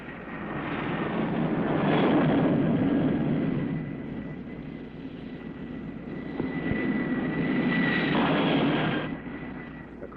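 Jet planes landing aboard the aircraft carrier USS Randolph in 1954, a steady engine roar that swells, eases, then builds again over the ship's background rumble.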